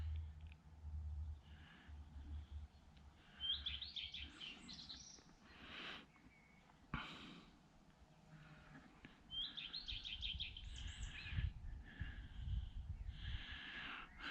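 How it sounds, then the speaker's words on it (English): A blackbird sings in the distance from somewhere in a tree on a hillside stroll. Its faint, fluting phrases come in two clear bursts over quiet outdoor rumble, alongside other faint chirps. "Oh, we've got a blackbird as well somewhere."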